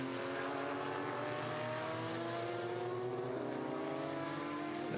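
TVR Tuscan historic race cars roar past on the track at the Estoril Classics, a continuous loud engine howl with gear-change pitch shifts and several overlapping engine notes, no talking.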